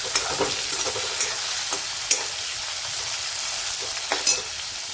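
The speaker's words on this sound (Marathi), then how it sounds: "आता याला पण आपण परतून घेऊ।" Crushed garlic sautéing in a pan, a steady moderate sizzle broken by scattered spatula scrapes and light clicks as it is stirred.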